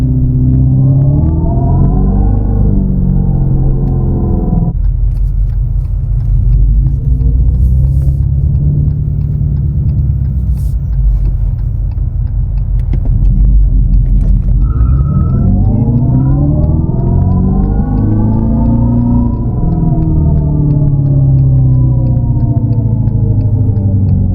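A 670 hp Dodge Charger Daytona EV electric car with the Fratzonic synthetic exhaust accelerates hard in drag mode, giving a loud, droning engine-like tone whose pitch sweeps up and down several times over steady road rumble.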